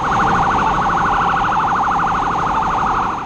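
A funeral escort vehicle's emergency siren wails in a fast, steady electronic warble, loud and close, continuous throughout with low road rumble beneath.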